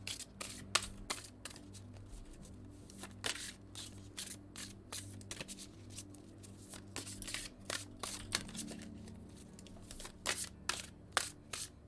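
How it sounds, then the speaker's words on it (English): A deck of oracle cards is shuffled close up in a quiet room, giving repeated quick riffling bursts and soft taps, faint and irregular over a low steady hum. "Give that a quick shuffle."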